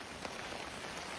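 Steady rain hisses down on the road to Munnar in Kerala, a faint, even wash of drops with no voices.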